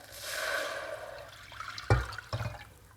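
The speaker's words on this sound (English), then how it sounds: "I'm going to add in 450 ml of water." Water, 450 ml, poured into a cooking pan for a plant-based dish: a steady rushing pour for about a second, then a few sharp clanks and knocks of the pan, moderately close, with no talking.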